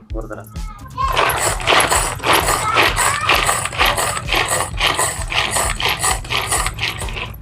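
A manual pull-cord vegetable chopper cuts onion with a rapid run of about a dozen loud, rhythmic ratcheting whirrs, each pull followed by a clicking spin-down. A person talks throughout.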